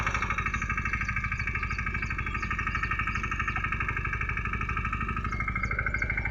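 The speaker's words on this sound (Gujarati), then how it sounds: "ટ્રેક્ટર ચાલુ થઈ ગયું છે" A mini tractor's diesel engine runs steadily nearby with a rapid, even chugging throb, loud and continuous for the whole stretch, no speech.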